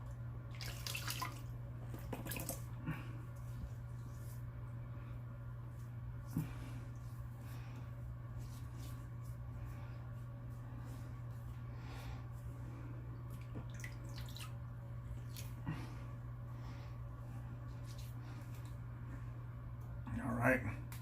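Tap water runs steadily into a sink while someone rinses off mid-shave with a double-edge safety razor, a constant low rush with a strong hum beneath it and occasional splashes and handling clatter.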